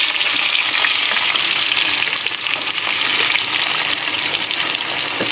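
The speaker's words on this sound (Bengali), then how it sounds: "আর দিয়ে দেবো কুচানো পেঁয়াজ।" Chopped onions and five-spice seeds fry in hot oil in a wok for a fish-bone chorchori, a loud, steady, close hiss of sizzling with faint stirring underneath, no talk.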